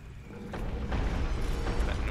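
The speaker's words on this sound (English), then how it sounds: "That noise you just heard is the boulder trap turning." In the Dark Souls video game, a boulder trap turns with a low rumbling, grinding creak that builds and holds at moderate loudness.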